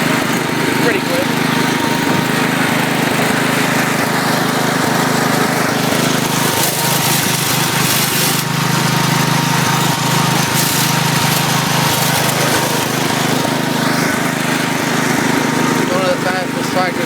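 Small Cub tractor engine runs after a cold start, a loud, steady buzzing drone that carries throughout, with faint rumbles of movement over rough ground.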